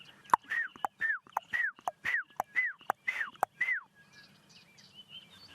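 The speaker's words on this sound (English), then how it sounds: "that is the black-backed puffback" A black-backed puffback calls in the bush at sunrise, giving about eight sharp clicks, each paired with a short, falling whistled note, in an even rhythm. The calls are close and clear, and then fade to quiet background sound.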